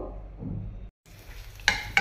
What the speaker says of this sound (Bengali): কড়াইয়ের মধ্যে কাজু কিশমিশ আর আমন্ড দিয়ে দিয়েছি, অল্প একটু ঘি দিয়ে দিলাম।